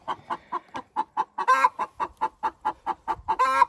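Hens in nesting boxes clucking in quick, rhythmic bursts, close by, with a couple of louder, drawn-out squawks breaking the pattern and no talking.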